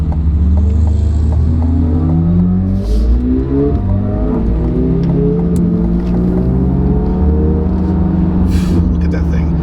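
Chevrolet Corvette Z06 engine heard from behind another Z06 while driving, a steady loud rumble with shifting rev tones throughout, under occasional speech.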